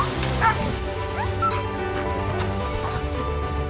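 Sled dogs on an outdoor camp in Finnish Lapland bark, yip and whimper excitedly, in overlapping bursts over constant rushing movement noise.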